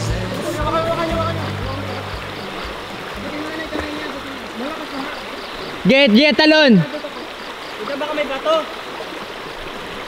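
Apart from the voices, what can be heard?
strong river current rushing down from the mountain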